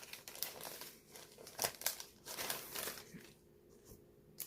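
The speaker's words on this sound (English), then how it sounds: "Sorry for the crinkle." Plastic packaging around a cross-stitch pattern crinkles close up in irregular, quiet bursts of rustling, with no voices.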